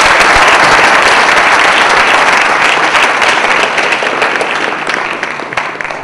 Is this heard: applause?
yes